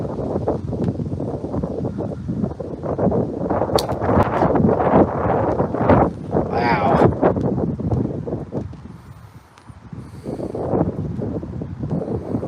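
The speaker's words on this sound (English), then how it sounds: "Big gust of wind again." A strong outdoor gust roars and buffets the microphone for several seconds during flint knapping on a large chert boulder, with someone talking over the rushing wind.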